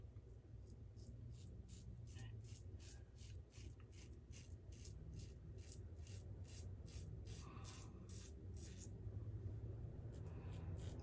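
A double-edge safety razor drawn through aloe shave gel gives a steady run of crisp, rhythmic scratchy strokes, close and quiet, with no talking.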